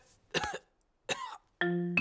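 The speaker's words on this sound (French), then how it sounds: "Voilà que le docteur a attrapé la toux de Pedro maintenant." A cartoon doctor in a Peppa Pig episode coughs twice, two short harsh bursts separated by a pause, followed by a sustained tonal note from the animated soundtrack.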